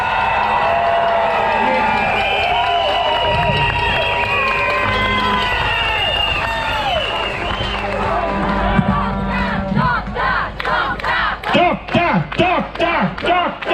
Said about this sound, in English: let's welcome him with a big warm round of applause